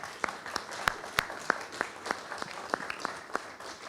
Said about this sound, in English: I would like to give a big round of applause for our panelists.